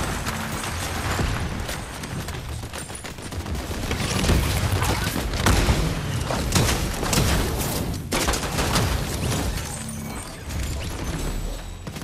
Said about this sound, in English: Somebody else shooting, y'all.